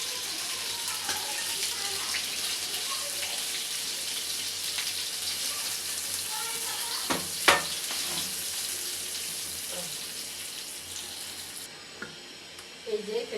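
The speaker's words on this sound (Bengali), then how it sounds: "এই যে ভাজা হয়ে গেছে, এখন আমি একটা একটা করে উঠে নেব" Spice-coated grilled chicken pieces fry in a pan with a continuous, dense sizzle throughout, broken by a couple of brief utensil clinks near the middle and a softer spell at the end.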